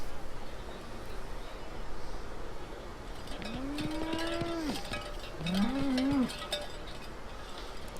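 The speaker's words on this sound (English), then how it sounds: "That's a cute cow." A cow in the video game Ace Attorney Spirit of Justice gives two clear moos, one long and one shorter, over a low steady background, with a faint clink of a cowbell and no talking.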